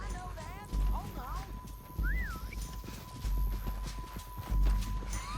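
Horse hooves clip-clop at a walking pace in the video game Red Dead Redemption 2, soft and close, with game dialogue talking over them.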